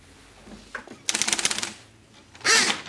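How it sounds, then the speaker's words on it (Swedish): Paper is pulled from an old typewriter, with a short rasp, then a run of rapid ratcheting clicks, and a final louder zipping rattle, heard close and alone. "gamla skrivmaskiner, när du drar ut pappret från dem,"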